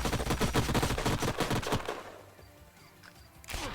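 Dense bursts of rapid gunfire from the sci-fi strategy game Age of Wonders: Planetfall crackle loudly for about two seconds, then fade to a quieter stretch of distant shots before another burst at the end.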